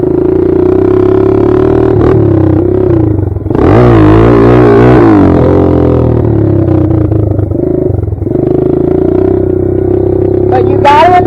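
Kawasaki KLX140 dirt bike engine revving close up, steady loud drone that surges sharply around the middle as the clutch is popped for a wheelie, then settles back to a steady rev.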